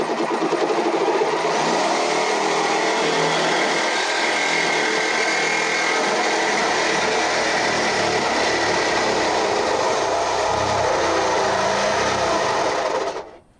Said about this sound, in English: Send the Sawzall angrily through there